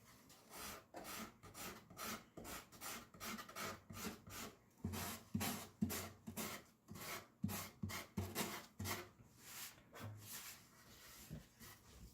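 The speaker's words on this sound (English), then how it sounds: "And that's our felt sanding blocks." Steady rhythmic rasping strokes of a felt sanding block rubbing back and forth on wood in guitar making, close and quiet, with no speech.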